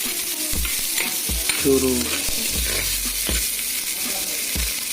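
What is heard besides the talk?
pork frying in a pan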